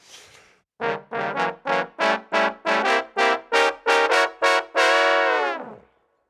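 A single trombone sounds a dominant seventh chord in third inversion as a series of about eleven short, evenly spaced tones, then one longer sustained note that fades, close and clear.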